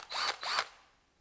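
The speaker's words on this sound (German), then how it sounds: "Hier in dem Fall jetzt hier auf Schrauben eingestellt, wir konnten es auch auf Bohren einstellen." A cordless drill driver set to screwing mode runs in two short, close whirring bursts, then its whine trails off quietly.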